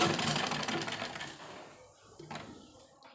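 A sewing machine stitching cloth runs in a fast, even mechanical rattle that is loudest at first and then thins out, with a brief renewed burst near the end. No one speaks.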